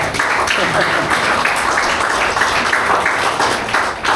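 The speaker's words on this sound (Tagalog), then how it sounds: "Pumalakpak po yung pang-apat." Steady applause from a crowd, a dense continuous patter of many hands clapping throughout, fairly loud.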